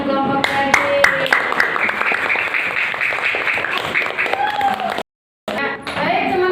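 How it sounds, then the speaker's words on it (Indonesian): Small group of classmates claps for a presenting team in a classroom, a busy patter of hand claps with some voices mixed in, briefly cut to silence before resuming. "Tepuk tangan untuk teman-teman kelompok daging."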